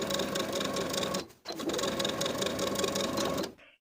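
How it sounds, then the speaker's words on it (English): A sewing machine understitches a pocket to the seam allowance about 1/8 inch from the edge, running in two steady, close bursts split by a brief pause before stopping. "we're going to understitch the same distance of our original stitches, sewing the pocket to the seam allowance underneath with about 1/8 inch seam allowance"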